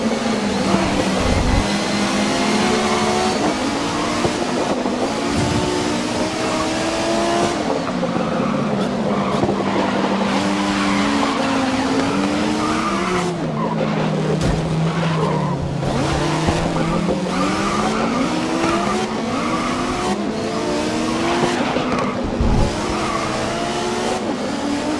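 Race cars in the video game Grid 2019 roar continuously with shifting engine pitch, repeated tire squeals and skids through corners, loud and constant with no talking.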